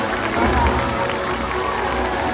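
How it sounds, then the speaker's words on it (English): An audience at the SeaWorld San Diego Orca Encounter show applauds and cheers, a loud wash of crowd clapping and voices in an open-air stadium, brief and steady. "big round of applause, everybody"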